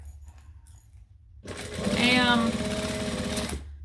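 A sewing machine stitches a bag in a short, steady whirring burst of about two seconds, close and clear, with a person talking quietly before it starts.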